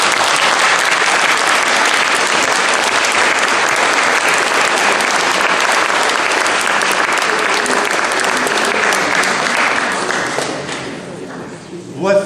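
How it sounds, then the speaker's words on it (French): Audience applauds at the opening night of a film festival, loud sustained clapping from a full room with voices mixed in, fading and thinning out at the end. "On l'applaudit."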